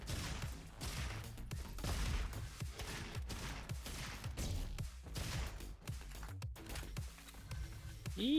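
Sheriff Carbine gunfire in a roguelite video game: repeated sharp, punchy shots in fast bursts over about eight seconds, with brief pauses and a rising electronic tone at the end.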